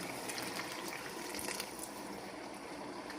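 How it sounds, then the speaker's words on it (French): Water poured into a pot of beef and plantain stew (kondré) to cover the plantain, a steady close splashing gush heard alone for a few seconds before easing slightly. "Je vais maintenant augmenter de l'eau jusqu'à ce que ça va dépasser."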